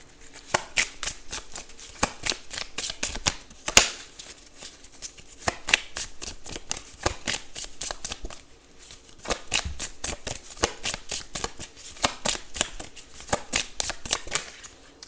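Tarot cards shuffled by hand in quick, crisp riffling bursts, repeated many times in a steady rhythm with brief pauses, close and clear with no talking.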